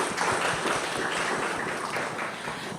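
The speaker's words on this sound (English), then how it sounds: "If I could just have a quick round of applause for the amazing leadership at here" Applause from an audience at a talk on truth and reconciliation in a digital age, a dense steady patter of many hands clapping that fades slightly toward the end.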